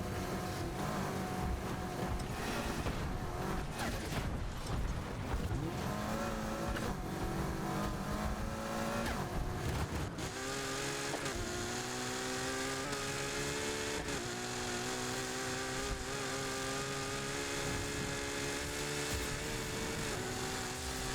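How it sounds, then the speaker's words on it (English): Turbocharged car engines in Need For Speed Heat, a big single turbo and twin-turbo setups, roar continuously at close range, with revs climbing and shifting through gears, a steady loud drone with no talk. "The big single turbo sounds gruff as hell, while the duals sound a little bit more refined."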